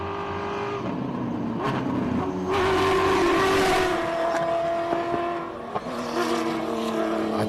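Off-road rally car engine racing up a hill climb, a loud revving roar that climbs through the gears with shifts and swells as it passes close by.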